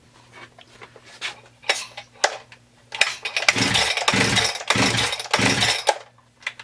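A Husqvarna 394xp chainsaw running rough with no power, several short cranks and brief catches followed by an uneven, loud engine burst that surges and dips, up close.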